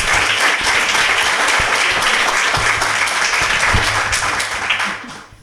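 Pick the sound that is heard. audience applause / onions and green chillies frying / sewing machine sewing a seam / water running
audience applause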